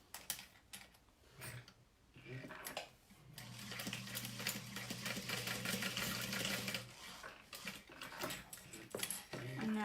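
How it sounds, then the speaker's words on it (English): A sewing machine runs in a steady whirring burst for several seconds, stitching corner to corner across fabric for a saddle bag, with faint handling clicks before and after. "what you can do is you can sew again from corner to corner"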